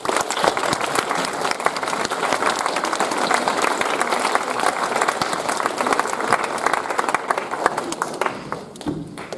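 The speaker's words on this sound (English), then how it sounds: "a special round of applause" Sustained applause from an audience at a Rolleston College Year 9 school prize giving, dense steady clapping filling the hall, fading slightly at the very end.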